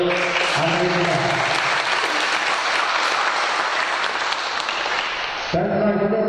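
An audience applauds at a Tarung Derajat martial arts gathering in Kediri, loud dense clapping sustained for several seconds, overlapping a voice and tonal sound early on before a brief drop and renewed sound at the end.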